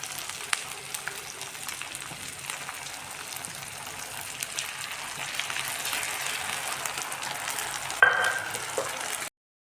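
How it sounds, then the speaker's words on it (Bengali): Spices and mustard paste fry in a pan for a Bengali fish curry with greens, giving an even, continuous crackling sizzle that stays moderately loud throughout, with a sharp clatter near the end. "মশলাটা ভালো করে ভাজে দেবো সর্ষে বাটা"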